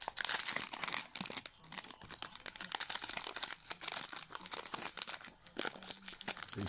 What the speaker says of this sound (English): Open up this second pack.